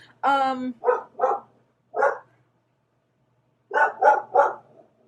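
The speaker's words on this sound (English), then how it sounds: "my dog's barking here" A dog barks nearby: a drawn-out yelp followed by several short barks, a pause, then another quick burst of barks.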